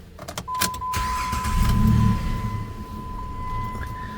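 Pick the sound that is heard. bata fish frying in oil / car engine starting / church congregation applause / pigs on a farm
car engine starting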